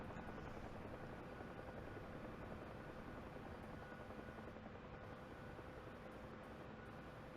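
Huey helicopter in flight heard from on board, a loud, steady broadband rotor and turbine roar that fills the whole stretch without a break.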